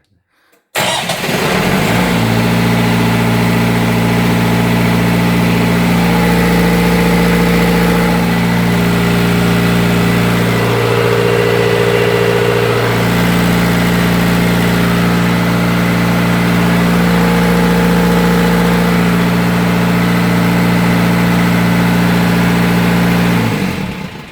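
A large fire pump engine cranks on battery power and catches, then runs at a loud steady drone for about twenty seconds, rising briefly mid-run before settling, with no voices.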